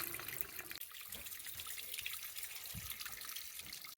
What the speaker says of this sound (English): I noticed the water wasn't shut with the knife valve closed. It was still coming out a little quick.